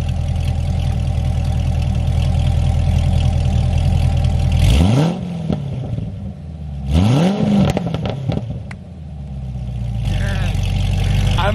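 A powerful sports car exhaust idles with a deep rumble, then revs hard twice in sharp, rising blasts before settling back to a loud idle.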